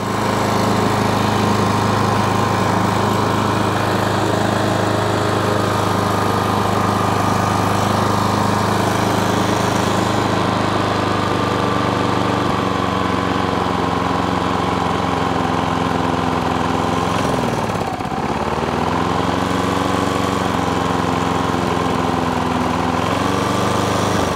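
A walk-behind lawn mower whose carburetor needs tuning runs in a loud, steady drone throughout, with one brief dip in engine pitch partway through before it settles back to an even idle.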